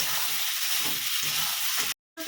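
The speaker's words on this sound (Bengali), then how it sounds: "এবার পেঁয়াজ আর টমেটোটাকে একটু ভালো করে ভেজে নেব" Onions and tomatoes fry in a pan with a steady hiss and sizzle, broken by soft stirring sounds, then a brief total dropout near the end before the frying noise resumes.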